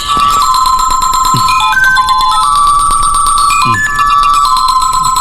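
A telephone ringtone plays loudly and continuously, a bright repeating electronic melody of bell-like tones with a few faint rattling thumps in the background, no voices.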